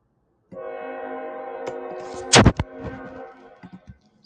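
A train horn blares nearby as a loud sustained harmonic blast, followed by a burst of clanking and rumbling before it trails off.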